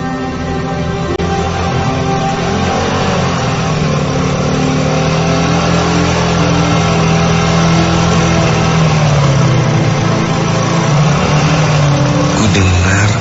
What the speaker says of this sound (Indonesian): ada bunyi sepeda motor.